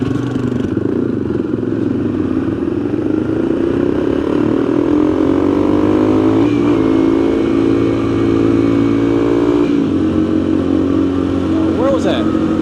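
A motorcycle rider downshifts and brakes together, the engine note rising and falling in steady engine drone with shifting harmonics over wind, close and loud throughout the ride.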